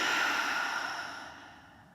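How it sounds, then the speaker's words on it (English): A long exhale through the mouth during a yoga flow, one close airy breath that slowly fades out over a couple of seconds, with no talking. "Exhale through the mouth"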